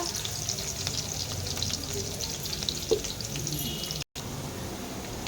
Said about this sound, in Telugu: ఉల్లిపాయ ఫ్రై అయిపోయింది.